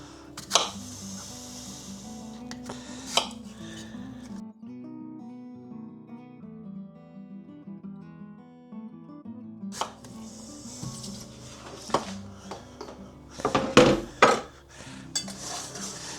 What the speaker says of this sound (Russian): мы сейчас поделим, разрежем на 4 дольки и отправим вот в эту кастрюльку.